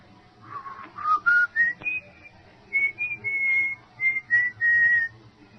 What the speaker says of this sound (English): I heard it. The whistling. It was an old tune.